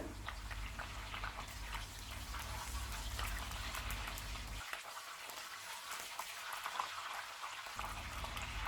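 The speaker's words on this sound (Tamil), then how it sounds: "நம்ம இதை லைட்டாக கொஞ்சம் வதக்கி விட்டுருங்க" Steady sizzling and crackling of ginger, garlic and curry leaves frying in hot oil for a prawn curry, close and continuous, with a brief dip in the low rumble midway.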